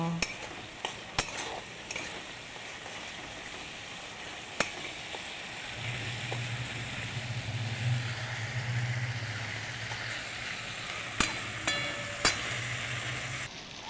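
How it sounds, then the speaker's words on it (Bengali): Spiced potato stirred and sautéed in a pan with a splash of hot water, a steady low sizzle building midway with occasional clinks of a spoon against the pan. "এরপর একটু গরম জল দিয়ে কষাচ্ছি"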